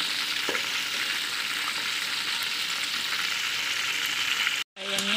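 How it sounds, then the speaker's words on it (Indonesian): Chicken pieces fry in hot oil until crispy for ayam kecap, a steady close, bright sizzle that runs evenly throughout and cuts out briefly near the end before resuming. "Ini saya goreng dulu ayam yang tadi sampai garing."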